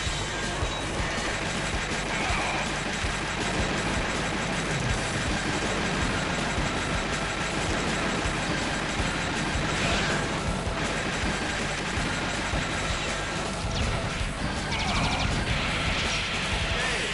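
Train sequence from the arcade game Metal Slug 2, a steady dense rumble of rolling rail machinery with clattering and mechanical noise running continuously and loudly throughout.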